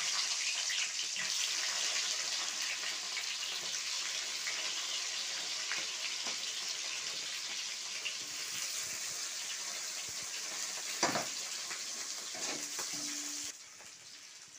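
Onions hitting hot oil for chilli chicken, a broad, steady hiss of frying that holds evenly, with a few brief clatters near the end as the sound drops slightly, close and without talk.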